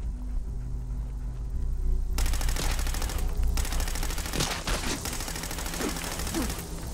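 Gunfire in Fallout 4 during a bear hunt, with sustained rapid shots and sharp cracks layered over a steady droning game ambience, fairly quiet and continuous.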